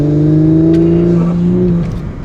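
A 2022 Audi S5 Sportback accelerates hard on a drag strip, its engine note loud, close and steady, then dipping near the end.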